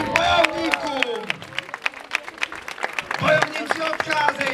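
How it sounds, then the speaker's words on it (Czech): Audience clapping for the fighters after a sword-fighting show at a village celebration, steady applause from a nearby crowd with cheers and voices mixed in, and a speaking voice at the start. "Tleskáme udatným bojovníkům."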